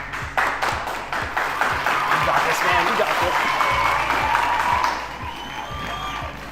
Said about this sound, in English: Can we give him a little applause?